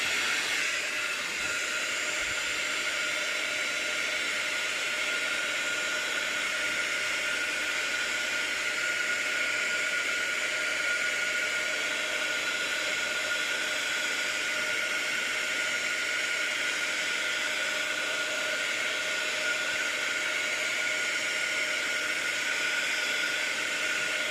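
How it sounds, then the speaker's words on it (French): Heat gun drying a painted scrapbooking background, blowing as one steady, loud airy roar with a constant hiss that runs unbroken for the whole stretch, with no talking. "Je vais sécher au gun."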